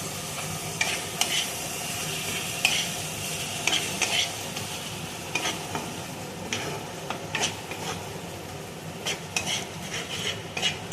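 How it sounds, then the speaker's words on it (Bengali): Ginger, garlic and tomato paste frying for biryani, a continuous close sizzle with frequent metallic scrapes and taps of a spoon against the pot. "আদা রসুনের জলটা মরা অবধি আমি একটুখানি কষবো।"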